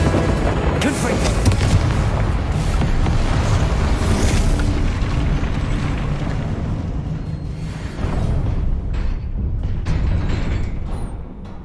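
Confringo fire spells blast repeatedly in the Hogwarts Legacy video game, producing a dense, loud, continuous wall of booming explosions with no breaks.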